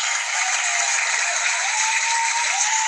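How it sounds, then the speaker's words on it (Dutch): Applause from an audience greets a guest on a comedy show, a dense, sustained wash of clapping, close and loud, holding evenly for nearly three seconds. "Ja, applaus."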